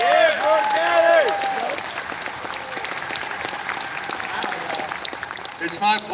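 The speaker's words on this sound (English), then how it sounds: "So I'd like to have a round of applause for Florida Carry." Crowd applause and cheering at a Florida gun rights rally, a loud dense wash of clapping that fades to a steady patter, with a voice calling out over the start.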